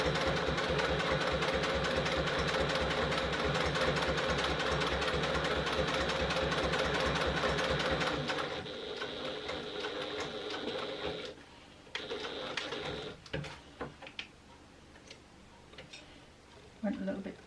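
A domestic sewing machine runs fast and steady for about eight seconds while stitching an internal zipper pocket into a bag lining, then slows to short halting bursts with pauses as the needle turns a corner; a voice talks throughout.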